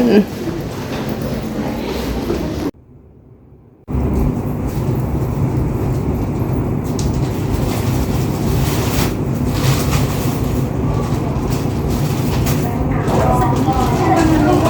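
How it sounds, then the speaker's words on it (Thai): Strong wind buffets the microphone outdoors in a loud, continuous roar, with a short dropout early on. "ลมมาก"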